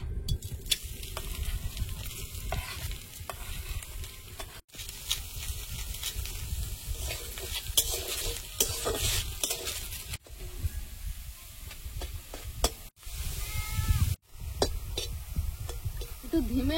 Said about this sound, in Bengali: শুকনো খোলায় চিংড়িটা ভেজে নেব।